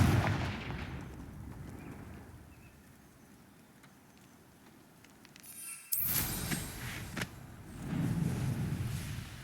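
Blasting-curse explosions from Hogwarts Legacy gameplay: bursts of crackling impact noise, a quieter lull, then a sharp loud blast near the middle followed by further rumbling detonations.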